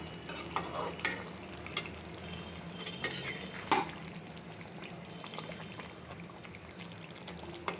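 Chicken is stir-fried in a pan for a curry roast, with a steady soft sizzle under repeated scraping and clinking strokes of a spoon against the metal.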